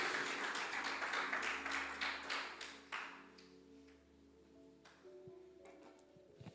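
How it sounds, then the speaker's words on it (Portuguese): Applause from a church congregation honoring Jesus, a dense burst of many hands clapping that thins out and fades after about three seconds, leaving scattered claps and faint room sound with a low background hum. "Você pode dar uma salva de palmas ao Senhor Jesus."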